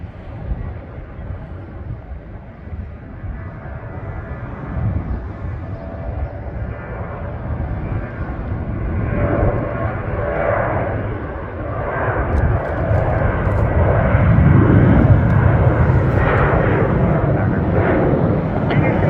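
A Southwest Boeing 737 Next Generation takes off from runway 19 right at Milwaukee. Its broad, rumbling jet roar swells steadily louder and fuller over nearly twenty seconds as it climbs out.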